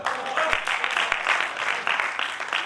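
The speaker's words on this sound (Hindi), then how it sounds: "तालियां" Applause from the audience at a Hindi poetry recital and book launch, a sustained dense round of clapping with a couple of sharp thumps near the start, fairly close and steady.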